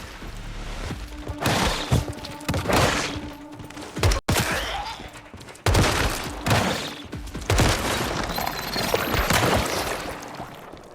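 Gunfire from steel bullets in the video game Once Human, with repeated bursts of rapid shots in four or five clusters, loud and close, separated by short pauses and sharp impacts.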